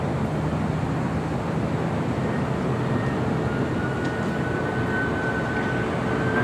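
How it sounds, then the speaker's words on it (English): A heavy Boeing 747 jet takes off at LAX, a loud continuous broadband engine roar heard from a distance, steady throughout with a faint rising whine. "heavy 747 on the roll, crosspoint, goes on 25 left, good away"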